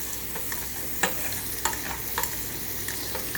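Bacon and onions fry in a pan, giving a steady close sizzle with a few sharp crackles and pops standing out.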